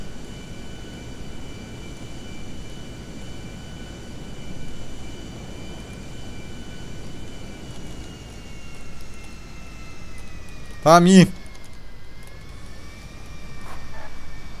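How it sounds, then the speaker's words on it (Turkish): A video game airplane engine drones steadily at a moderate level with layered tones that dip slightly near the end, broken by a short burst of a nearby voice. "Ah uçak dön artık dön."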